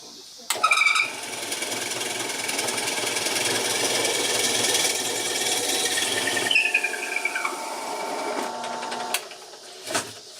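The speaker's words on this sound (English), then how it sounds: "we have a very basic drill press, but it serves us well" A drill press whirs steadily with a high mechanical whine, grinding and rattling through wood, then slows and stops near the end, with a brief knock after.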